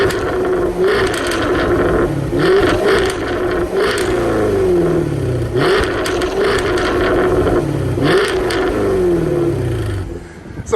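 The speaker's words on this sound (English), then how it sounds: "Let's just give it a couple revs here." A Jaguar F-Type R engine is blipped repeatedly, loud and close: sharp throttle flares roar up, then drop off with crackling and burbling between them, about five revs in a row.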